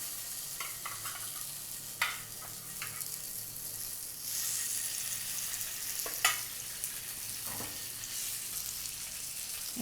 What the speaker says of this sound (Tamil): இப்போ எண்ணெய் நல்லா காஞ்ச உடனே நீங்கள் வந்து மீனை போடுங்க